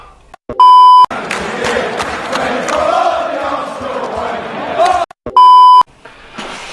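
A mobile phone rings twice with an incoming call, loud electronic tone bursts at the start and near the end, while someone talks continuously between them.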